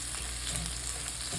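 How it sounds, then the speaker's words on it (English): Rice toasts in a pan for Mexican rice, giving a soft, steady frying hiss with faint stirring scrapes, quiet and close, with no talking. "So you basically just want to toast up your rice until it's like a good golden brown color."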